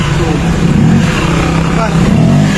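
A Griffin 180i motorcycle engine revs steadily under light throttle, a continuous close mid-pitched drone that swells slightly, with a voice talking over it.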